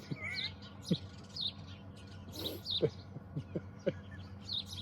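Several birds chirping just overhead outdoors, repeated short high tweets and calls scattered across a few seconds over a quiet background.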